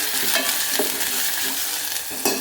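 A spoon stirs and scrapes through a hot frying pan after turmeric and salt go in, with steady sizzling under repeated scraping strokes and no talking.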